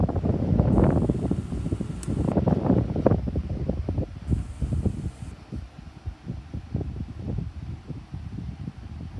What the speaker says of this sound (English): Now you can start to hear the Dyson a lot, but it's kicking out a lot of air now.